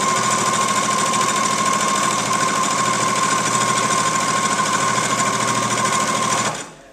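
A sewing machine runs a straight stitch along the edge of a party napkin, a fast, even mechanical whir heard close up for several seconds before it stops abruptly.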